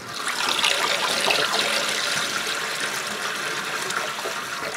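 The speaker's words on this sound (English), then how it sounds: "Now I can pump some water, bring it inside the cottage," Water rushes steadily from a pump into a barrel inside a winter cottage, a continuous, fairly loud splashing hiss that holds for several seconds with no talk.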